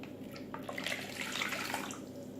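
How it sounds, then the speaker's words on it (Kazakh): Salted warm water poured into a kneading bowl for steamed bread dough, a steady close trickle and splash running throughout with no talk. "Оны илейтін ыдысымызға құямыз"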